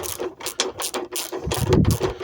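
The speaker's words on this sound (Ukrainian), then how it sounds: "Зажимається просто ключом." A wrench tightens a nut on a welded plate while a cyclone-type air filter is fitted, giving a run of quick, close ratcheting clicks in short bursts.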